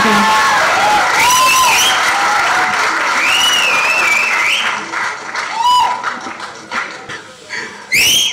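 An audience at a movie teaser launch press event claps loudly for a director heading to the podium, with a dense, sustained round of applause that thins toward the end among whistles and cheers.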